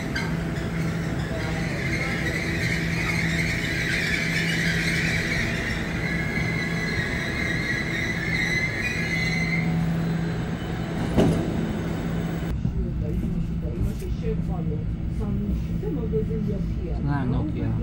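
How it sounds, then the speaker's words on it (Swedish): A commuter train riding toward Nynäshamn rumbles steadily throughout, with a high squealing tone from the rails for the first half and a brief clunk partway through; a voice talks over the running noise. "Så här åker jag tåget mot Nynäshamn"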